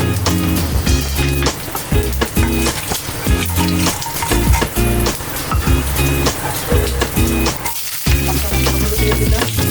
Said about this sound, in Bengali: শুকনো লঙ্কা, ভেজে নিচ্ছি, কালিজিরা ফোড়ন দিয়ে দিচ্ছি অল্প একটু